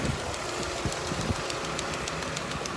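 A farm pump engine runs steadily while filling tanks, giving a continuous mid-pitched mechanical drone with a faint regular knocking tick and no voices.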